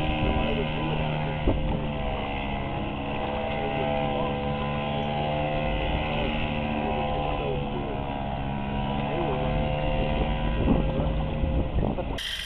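A homemade fiberglass boat motors across the water with a steady, droning engine hum and layered harmonic whine, joined by wind rumble on the microphone, holding nearly constant throughout.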